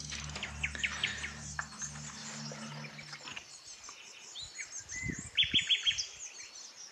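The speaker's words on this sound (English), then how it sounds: "I love bird sounds and this is just peaceful." Birds chirp and sing in scattered, fairly faint calls, with a quick run of bright repeated notes near the end, in a quiet rural spot by the ruined Monfurado convent abbey, destroyed by an earthquake in 1755.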